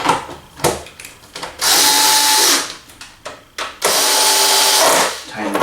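Power tool driving screws while a TV wall mount is assembled, in two sustained whirring bursts between softer handling clatter and brief pauses; a person talks in between.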